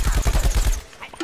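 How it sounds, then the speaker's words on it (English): Rapid automatic gunfire in Plants vs. Zombies: Garden Warfare, a quick rhythmic burst of about eight close, loud shots, then a brief quieter tail with a faint voice. "Who's shooting at me?"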